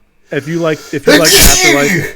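A single sharp sneeze bursts out close and loud in the middle of conversation, with people talking just before and after it.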